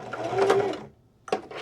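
A sewing machine stitches a boxy bag in a short, close burst of rapid mechanical whirring, stops briefly, then starts running again.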